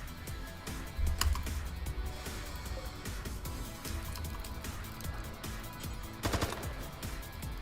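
Rapid gunfire in the video game Rimworld, a dense, steady rattle of shots with brief louder bursts, running continuously at moderate volume with no talking.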